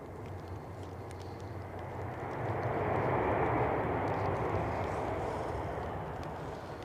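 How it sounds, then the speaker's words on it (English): An easyJet airliner comes in to touch down at Manchester Airport in stormy weather, its broad jet rumble swelling to a peak in the middle and then easing slightly, heard alone without voices. "EasyJet just about to touch down, hopefully."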